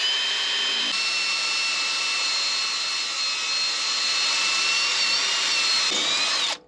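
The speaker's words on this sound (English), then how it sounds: "I'm going to drill from that side." A power drill whines steadily at high pitch, boring continuously through steel on a Nissan diesel-swapped Oliver OC-3 crawler for several seconds before winding down at the end.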